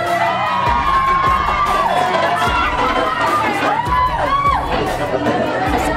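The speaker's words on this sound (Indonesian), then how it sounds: "Sekali lagi berikan aplaus." A school student council debate audience cheers, whoops and shouts in a loud, continuous crowd roar, with excited voices and chatter rising throughout.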